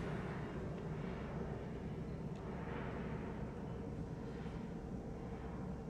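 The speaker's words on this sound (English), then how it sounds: "as the airplane goes by," An airplane passes overhead, heard as a steady, broad, rumbling roar that holds at an even level the whole time, with no voices.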